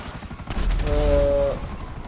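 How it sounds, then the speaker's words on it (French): Machine gun fire in Grand Theft Auto V, a rapid burst of gunshots in the middle of the clip, fairly loud against a steady game background, with no talking. "tu peux lui tirer dessus à la mitrailleuse"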